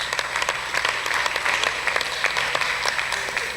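A debate competition audience gives sustained, dense applause, an even wash of many hands clapping at moderate distance with occasional sharper claps and no talk over it.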